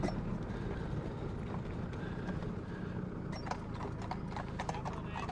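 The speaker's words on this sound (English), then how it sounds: "we'll let these horses go past" Hooves clip-clop steadily on a hard road as horses walk past, over a constant low outdoor rumble.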